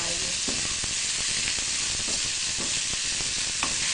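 Sliced green onion fries in a pan with carrot and pandan leaves, giving a steady dense sizzle and hiss with occasional light stirring taps.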